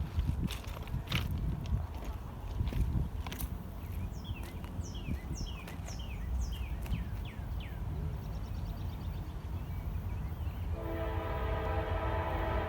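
A Norfolk Southern train passes a station, with rumbling wheels and rail clatter, several short horn blasts midway, and a sustained multi-tone horn blaring near the end, loud and close.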